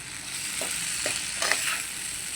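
Green chili and tomato chutney with turmeric and asafoetida frying in a pan, a constant close bright sizzle with a few soft stirring scrapes, steady and unbroken.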